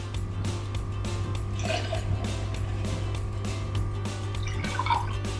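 Water poured onto rice, with some tamarind water added, while making tamarind pongal, a soft continuous liquid trickle and splashing under a steady low hum.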